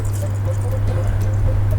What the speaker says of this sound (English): let me start pouring the